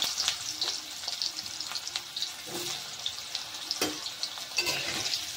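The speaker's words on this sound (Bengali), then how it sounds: "গাজরটাকে ভেজে নেব।" Small pieces of chopped carrot frying in hot oil, a close, steady bright sizzle punctuated by irregular sharp clicks and scrapes of a utensil moving them around the pan.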